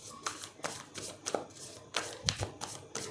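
Tarot cards slipping and tapping as they are handled and shuffled, a series of soft, close, irregular papery flicks and taps in a quiet room.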